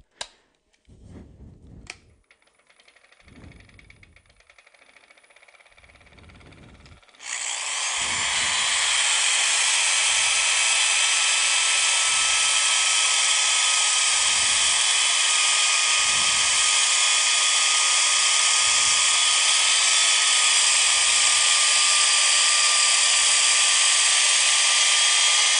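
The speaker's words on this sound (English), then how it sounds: "I start sanding everything with 80 grit" Quiet tapping and shuffling, then a power sander with 80-grit paper starts on wood and runs loud and steady, a continuous high whir with a bright hissing grind.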